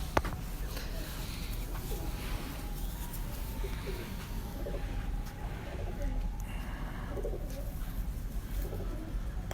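Racing pigeons in a Lahore loft give soft, repeated low coos in a steady rolling rhythm, close by, with faint ambient noise and occasional distant voices.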